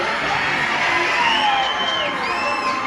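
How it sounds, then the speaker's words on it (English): A crowd aboard a cruise ship lets out a sustained rock scream, many voices yelling and whooping together at once in a loud, continuous roar that holds for several seconds. "I need to hear your best rock scream."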